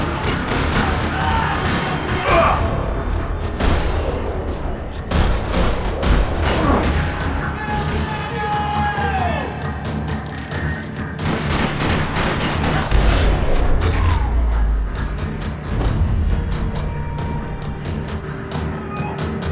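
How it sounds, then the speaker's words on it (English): Gunfire echoing through a parking lot in the video game Max Payne 3, repeated bursts of rapid shots and heavier booms over nearly twenty seconds, loud and continuous with brief lulls. "Another parking lot rattling with gunfire."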